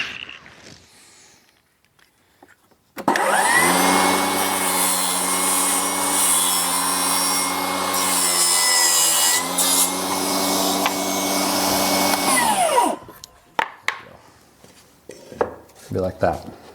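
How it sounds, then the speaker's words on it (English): A 2 3/4 inch hole saw on a drill bores through wood while modifying a range hood, giving a loud, steady whining grind for about ten seconds that stops abruptly, with quieter workshop clatter before and after. "So I got 2 3/4 inch hole saw, which will give us some clearance."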